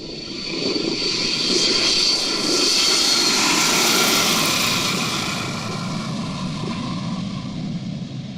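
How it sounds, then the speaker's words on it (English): A Boeing 727 jet roars loudly through its takeoff and climb as the landing gear retracts, the engine noise swelling to a peak midway and then easing slightly as it passes close by. "This Boeing 727 pilot couldn't wait to retract the landing gear."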